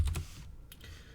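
A few quick keystrokes on a computer keyboard as a short command is typed, with two or three close, crisp clicks and then a short trailing tap.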